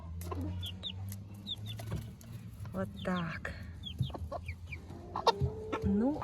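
A turkey hen with chicks makes scattered soft clucks and high peeps close by, with a person talking briefly and quietly among them.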